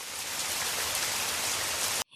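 Steady rain pours down in a dense, even hiss, close and continuous, then cuts off abruptly at the end.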